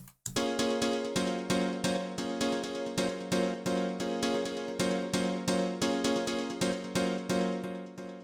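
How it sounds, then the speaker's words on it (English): A steady piano chord pattern repeats in a rapid even pulse, every note struck in time with a techno beat, loud and continuous with no voices. "Now for the piano."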